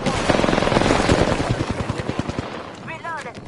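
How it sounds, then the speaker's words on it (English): Rapid bursts of automatic gunfire during an airstrike in a PS4 video game, loud and dense with overlapping shots that thin into separate cracks toward the end, followed by a short warbling electronic tone. "Oh no, there is an airstrike on."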